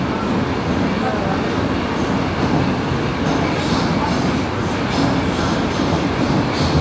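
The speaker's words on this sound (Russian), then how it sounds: "Мы на четвертом поезде." A Moscow metro train on a city-day train parade rolls along with a loud, continuous rumble and clatter heard from inside the carriage, steady throughout with faint wheel noise on top.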